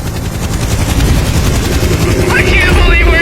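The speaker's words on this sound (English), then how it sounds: "Zahe, do you hear some helicopters?" Helicopters flying overhead near the Egyptian pyramids, a loud steady rotor rumble and chop filling the whole stretch, with a voice briefly audible over it.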